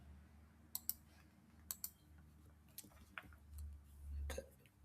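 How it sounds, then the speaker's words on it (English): Someone taps on a computer keyboard, producing a few faint, sharp clicks in short scattered bursts over a quiet background hum. "Sorry, my keyboard."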